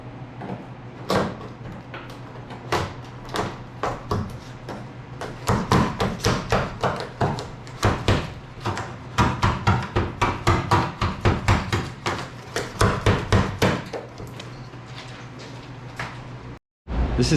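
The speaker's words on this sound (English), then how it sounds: "we're gonna peel all the chips off the hood" Chipping and peeling flaking paint off a crashed Mazda Miata's hood: dense series of sharp taps, scrapes and clacks, close and loud, over a steady low hum.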